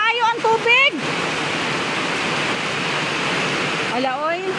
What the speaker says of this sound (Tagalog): grabe ka ulan. Hala, kusog kayo ang tubig.